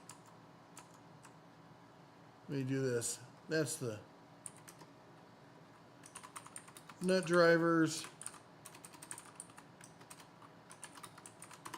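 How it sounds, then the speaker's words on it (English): Rapid typing on a computer keyboard with scattered key clicks, fairly close and moderately loud, interrupted by two short stretches of someone talking. "My fingers get away from me when I'm typing."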